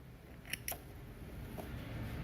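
Sewing scissors snip off excess thread at both ends of a zipper seam, two quick sharp clicks followed by a fainter third, quiet and close.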